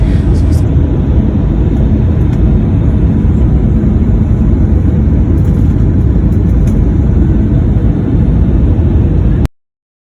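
Passenger airplane in flight heard from inside the cabin, a loud steady broadband roar of engines and airflow holding constant throughout before cutting off abruptly near the end.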